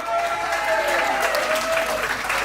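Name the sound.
audience applauding a contestant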